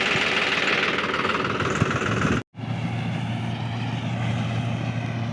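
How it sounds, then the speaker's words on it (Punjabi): A tractor engine runs close by with a low, steady rumble and rhythmic chugging, briefly cut off before resuming. "ਆਪਣਾ ਟਰੈਕਟਰ ਚੱਲ ਪਿਆ ਆ ਤੇ ਆਪਾਂ ਟਰੈਕਟਰ ਲੈ ਕੇ ਚੱਲੇ ਆ"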